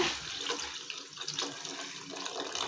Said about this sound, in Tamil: இப்போ வந்து நான் தண்ணியை மட்டும் ஆட் பண்ணுறேங்க